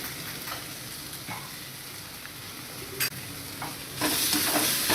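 Green chana sautéing in a pan with chilli, curry leaves, turmeric and salt: a steady close sizzle with occasional spatula scrapes, growing louder and hissier near the end.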